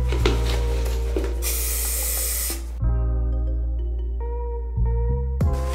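A short burst of aerosol spray paint sprayed into small cans, close and loud for about a second, over steady humming tones in the background.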